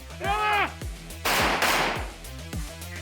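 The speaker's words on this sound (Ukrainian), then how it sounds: "Далі вогневий постріл у мішень." Two or three sharp pistol shots fired at a target crack out with a rolling echo, following a brief whistling tone at the start.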